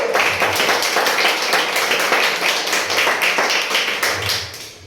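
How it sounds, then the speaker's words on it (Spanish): A church congregation claps loudly for their pastor during a sermon, a dense continuous wash of hands with some rhythmic emphasis, close and sustained for about five seconds before tapering slightly. "Denle un aplauso a nuestro Padre."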